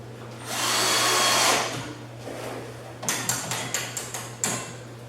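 Cordless drill driving screws for door hanging brackets into a small window frame: a sustained whir of about a second, then a series of short, sharp bursts of drilling and ratcheting, close and loud.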